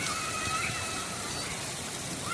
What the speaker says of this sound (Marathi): जोरातच पाऊस येतोय